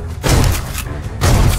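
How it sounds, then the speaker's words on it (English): Gunshots in a video game adaptation, heavy booming blasts, two loud thumping shots about a second apart, close and forceful with a reverberant tail. "My gunshots."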